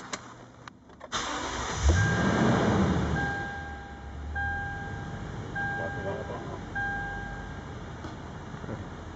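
A 2008 Toyota Tundra's 5.7 liter engine cranks briefly, catches and settles into a smooth, quiet idle, with a steady low hum under someone talking.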